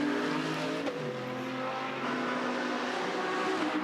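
A race car idles and revs in the Bathurst 12 Hour pit lane, a steady close engine drone with a busy mechanical hum and no voices.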